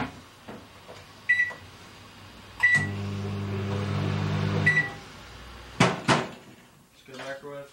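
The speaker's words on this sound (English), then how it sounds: "The microwave works." A microwave oven in a small kitchen and bathroom area runs with a steady hum for about two seconds, framed by sharp beeps and light clatter of dishes and cupboard knocks nearby.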